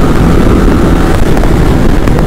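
A modified Yamaha MT-15 motorcycle runs at high speed in fifth gear, its engine drone buried in heavy, steady wind rush from the moving ride.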